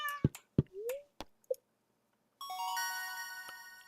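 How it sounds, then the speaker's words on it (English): Cat in the Stardew Valley video game meowing when petted: a few short chirpy meows and a rising mew, followed by a bright sustained chime-like jingle. "Pet the cat."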